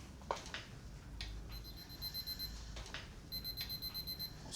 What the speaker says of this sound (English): What's that noise? Our alarm clock.